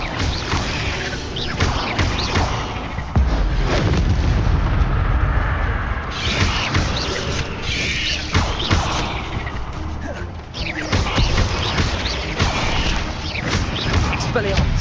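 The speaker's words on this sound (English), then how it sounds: "Expelliarmus!" Spell combat in the video game Hogwarts Legacy, with Expelliarmus being cast: loud, dense bursts of magical impacts, crashes and booms repeating over nearly fifteen seconds, with voices shouting over the fight.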